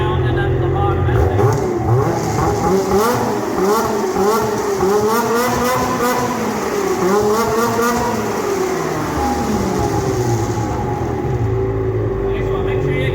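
A 2021 Ski-Doo 850 snowmobile fitted with a GGB performance muffler revs repeatedly, its engine note rising and falling in quick bursts, close and loud, settling back toward idle near the end.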